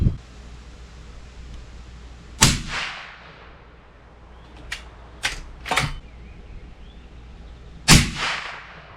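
Lever-action rifle firing Remington Core-Lokt Tipped ammunition on a warm barrel: a loud sharp shot, then a quieter cluster of clicks and clacks from working the lever, then a second loud shot with a trailing echo, all outdoors.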